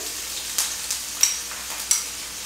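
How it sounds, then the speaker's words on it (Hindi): Capsicum fries in hot oil with a constant soft sizzle, broken by a few sharp clicks and scrapes from stirring, heard up close with no voices. "तेल मेरा गर्म हो गया है इसमें अब मैं डालूंगी शिमला मिर्च"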